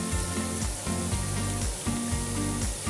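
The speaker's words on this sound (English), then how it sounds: "I'm just going to flip them over so it's evenly cooked" Fenugreek muthia fry in hot oil in a pan, giving a steady, loud sizzle with a soft rhythmic bubbling pulse as the pieces turn over, and no talking.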